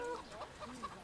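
Chickens clucking in the farming video game Farming Simulator 2013, a few short soft clucks in quick succession, fairly faint and heard alone.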